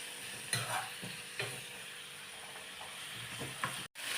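Ginger-garlic paste sautéing in hot oil in a pan, a soft steady sizzle with a few stirring scrapes, close and fairly quiet.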